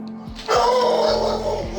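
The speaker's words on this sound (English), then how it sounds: "Give me a minute while I see what my dogs are going off about." Dogs in the video game RimWorld, with a single gruff bark followed by growling and yipping under faint background tones.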